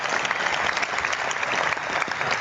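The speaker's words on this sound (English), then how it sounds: "Big round of applause for the TP38 Foundation." Audience applause for a foundation honored at a women's football event. Close, dense crowd clapping continues evenly for a couple of seconds, with no voices over it.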